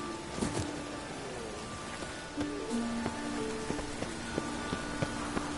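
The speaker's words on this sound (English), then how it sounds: "Rain, I like rain." Steady rain in The Witcher 3 patters softly in the background while faint tones and occasional clicks sound over it.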